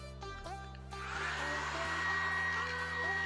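A tiny handheld mini vacuum cleaner whines at a steady high pitch, its motor tone shifting and the airflow roughening as it sucks up small metal screws, close by and uninterrupted.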